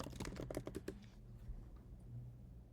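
Short burst of computer keyboard typing while entering a house address, a quick run of clicking keystrokes for about a second, close and fairly loud, then fading into quiet room tone.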